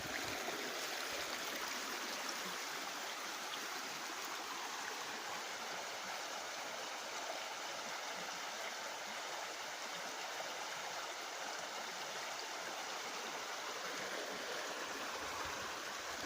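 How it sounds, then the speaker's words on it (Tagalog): A river stream runs steadily past a spring-fed washing spot, a continuous broadband rush of flowing water that holds at a constant level throughout with no voices. "Sa ilog na to."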